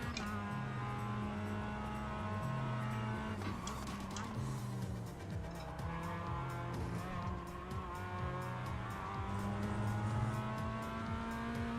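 A race car engine in a sim racing game drones and shifts through gears, rising and falling revs with tire squeal over roughly twelve seconds, loud and continuous with a voice talking faintly underneath.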